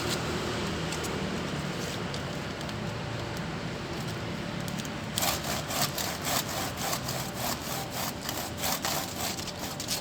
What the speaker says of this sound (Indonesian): ini saya udah bawa gergaji,